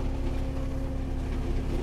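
A tractor-driven shredder grinds vine prunings in a vineyard, a steady, dense mechanical roar with a constant low engine hum and no breaks or voices.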